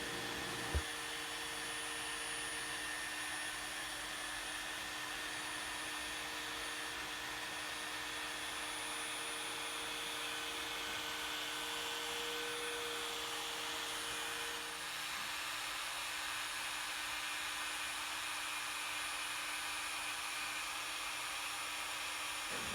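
A car paint polisher cuts clear coat: a steady, unbroken whirring drone with a faint constant whine for over twenty seconds, fairly quiet and without voices.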